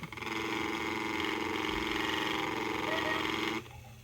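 A miniature pottery wheel motor runs with a loud, steady mechanical whir and hum that cuts off abruptly near the end, leaving faint room noise.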